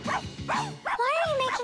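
An angry cartoon dog from The Fixies barks and yips in several sharp, close bursts, rising into a whining, wavering howl.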